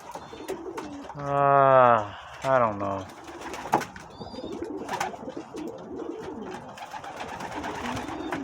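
Young pigeons in a breeding loft give a loud, close, drawn-out coo followed by a shorter one, with rustling, scattered bird sounds and a brief voice in the background afterward.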